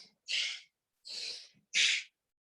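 Bhastrika bellows breathing, three forceful, hissing breaths through the nose in a steady rhythm, close and sharp, separated by short silences.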